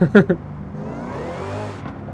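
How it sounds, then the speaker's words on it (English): Supercharged car engine in Forza Horizon 5, revving loudly with a rising whine after a few sharp opening pulses, then holding a steady drone. "Let's see how the bigger supercharger sounds."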